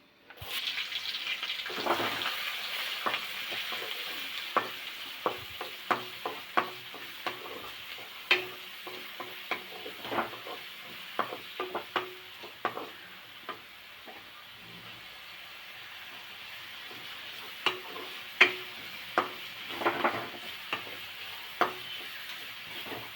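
Onions sizzle in a pan while a utensil scrapes and stirs in irregular clicks and knocks, close up, without speech.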